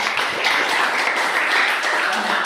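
A classroom audience applauds after a student group's presentation, giving steady, moderately loud clapping from many hands that continues evenly throughout.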